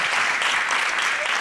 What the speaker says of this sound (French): On va applaudir nos jeunes volontaires qui ont bien voulu témoigner, partager leur expérience.